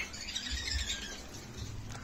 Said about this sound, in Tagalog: Ito may budgie din dito na pair.